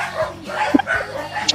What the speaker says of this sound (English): The dog singing.